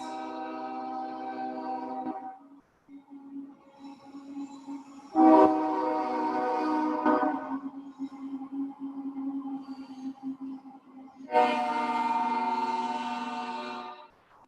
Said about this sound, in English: the train isn't letting me talk